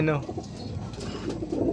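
Pigeons coo softly nearby in low, repeated burbling calls, with a brief higher bird sound at the start.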